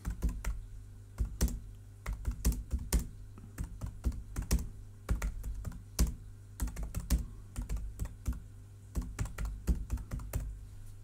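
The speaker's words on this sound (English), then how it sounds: "And we can start typing." Steady typing on a computer keyboard while entering text in a character-mode word processor: quick, close key clicks in an irregular rhythm, fairly quiet and alone with no voices.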